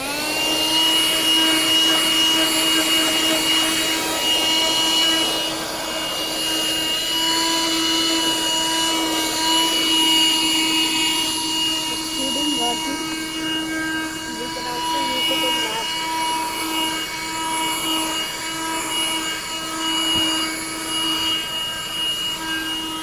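Black & Decker handheld car vacuum cleaner running continuously with a steady high-pitched motor whine and airflow rush, close up, with a person talking intermittently over it.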